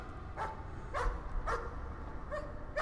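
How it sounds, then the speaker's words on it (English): A dog in the horror game Layers of Fear gives a run of short, bright barks and yips at a steady pace, about five in under three seconds, fairly close and clear. "This is a happy dog greeting its master."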